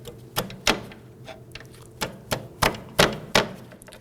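A notched flathead screwdriver works behind a drum brake spring on a 2008-2011 Ford Focus wheel cylinder job, giving sharp metallic clicks and knocks in an irregular series of about eight, close and distinct with quiet gaps between.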